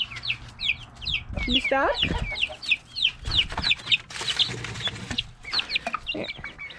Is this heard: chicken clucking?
yes